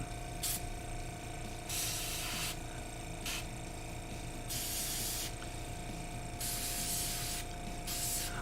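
An airbrush driven by a compressor sprays paint in several short hissing bursts of varying length, with pauses between them, over a constant low hum.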